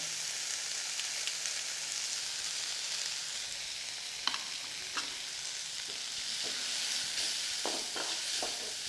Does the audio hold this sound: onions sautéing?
yes